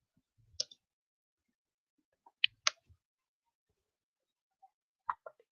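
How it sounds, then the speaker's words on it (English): Typing on a computer keyboard, heard as a few faint, scattered key clicks in short bursts with quiet gaps between them. "I can hear you typing."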